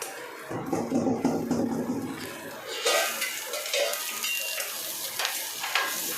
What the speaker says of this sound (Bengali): ডিমটা ভেজে দিই।